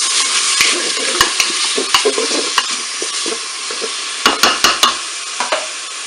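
A spoon stirs crumbled beef stock cube through mushrooms in a Cookeo pot, close scraping and soft sizzling with repeated sharp knocks against the bowl, clustered toward the end.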